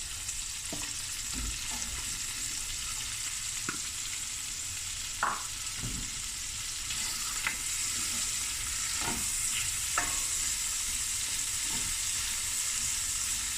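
Onions frying in a pan for a festive seafood dish, a steady sizzle throughout with periodic scrapes and stirs of a utensil, close and fairly quiet, no voices.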